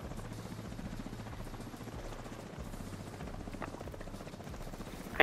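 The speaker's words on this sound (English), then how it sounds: "There's another helicopter." A helicopter in The Division 2 video game thrums steadily with a continuous rotor chop that stays loud and fairly close throughout, with no talking.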